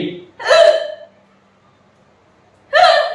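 Two loud, close hiccups, about two seconds apart with quiet between them, from someone doing a challenge of eating Rayalaseema goddu karam chili powder.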